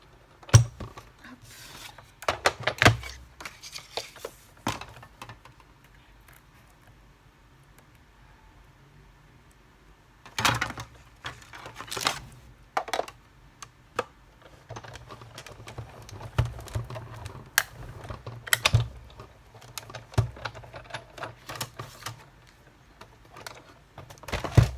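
A hand-cranked Big Shot die-cutting machine cuts paper, giving a close series of sharp clacking, ratcheting bursts at irregular intervals with quieter gaps between, and no voices.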